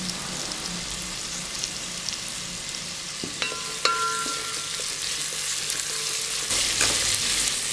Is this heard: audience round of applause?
no